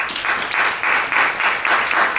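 A church congregation applauding during a Saturday worship service, a loud, close ovation of many hands with rhythmic surges of clapping.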